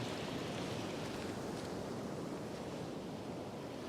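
Sea waves washing in at low tide on the Northumberland coast, a steady broadband surf roar close by with light wind buffeting, continuous and alone throughout.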